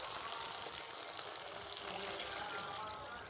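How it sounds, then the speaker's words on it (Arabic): Water poured into a pot of fried tomato paste and onions for a Baghdadi Ramadan dish, a soft continuous hissing pour and sizzle, faint and steady for a few seconds. "راح ننزل عليه المي."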